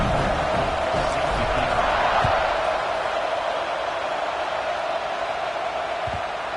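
A football stadium crowd waits before kickoff, a steady, far-off roar of many voices with a few faint whoops rising out of it. A commentator talks over the crowd.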